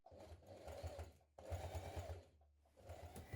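A sewing machine topstitching a jean jacket pocket runs in two steady bursts with a brief pause between them, then starts a third. The motor hums evenly with a rapid needle rattle, close and moderately loud.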